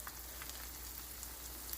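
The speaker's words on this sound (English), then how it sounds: "the cauliflower florets look like once they get dipped in the batter. And then they start frying" Battered cauliflower florets fry in hot oil with a soft, steady crackling sizzle that stays quiet and even throughout, with no voices over it.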